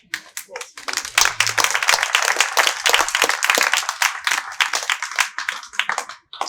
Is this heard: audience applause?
yes